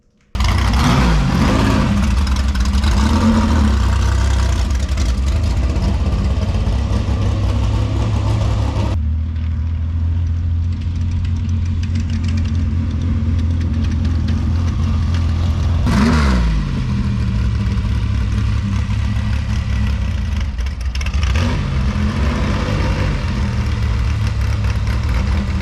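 Desert off-road race car just pulled out of the shop, engine idling loudly with several sharp revs and blips over about twenty-five seconds, close and steady without voices.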